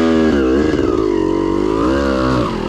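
A car engine revving hard on a snowy mountain road at Chortiatis, a loud close sustained drone that rises, holds and dips in pitch as the throttle is held.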